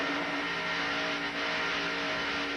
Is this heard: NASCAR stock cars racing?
yes